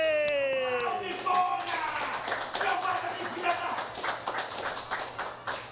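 A studio audience on a live show claps in a brisk, uneven burst after a short rising musical sting, the clapping continuing steadily to the end, with voices mixed underneath.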